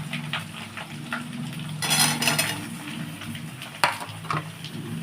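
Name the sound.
potatoes frying and being stirred in a pan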